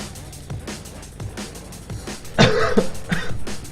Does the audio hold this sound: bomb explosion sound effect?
no